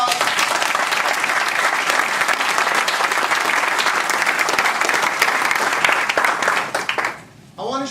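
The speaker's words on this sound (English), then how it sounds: "Give yourselves another round of applause." A large kickoff-event audience gives a loud, sustained round of applause, dense and even throughout, then thinning and fading away near the end.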